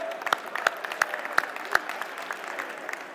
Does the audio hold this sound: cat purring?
no